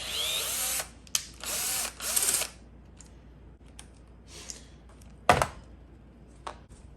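A power drill spins an 11 mm socket on the housing bolts of a 6.4 Powerstroke VGT high-pressure turbo, firing in several short, close whirring bursts with one sharp rattling jolt and quiet pauses between.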